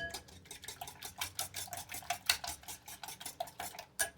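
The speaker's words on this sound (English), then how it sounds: "just gonna whisk those eggs up" A whisk beats eggs in a bowl with a fast, rhythmic series of light clinking strokes, close and fairly quiet.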